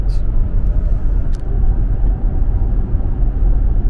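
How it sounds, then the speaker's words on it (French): Cabin noise inside a BMW i5 M60 cruising at 110 km/h on a motorway on very large tyres, a steady, dense low roar of road and wind noise with no talking. "110 km/h sur l'autoroute pour tester le niveau sonore avec le micro d'ambiance de la caméra à bord de cette BMW i5 M60"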